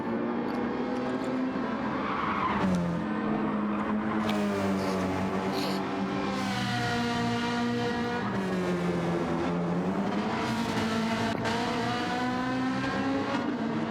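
Race cars in a racing video game scream past in succession, with high engine whines rising and falling as they shift gears, loud and continuous and overlapping one another.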